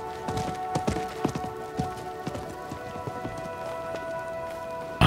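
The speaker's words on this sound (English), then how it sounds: "I think that was the merchant's horse." Clip-clop of a merchant's horse hooves in the video game Diablo IV, a run of irregular sharp hoofbeats close by over a steady musical drone, with no talking.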